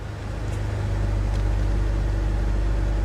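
A C4 Corvette engine idles steadily with a deep low rumble that grows slightly as it settles, near and continuous, with faint light clicks while being put into gear.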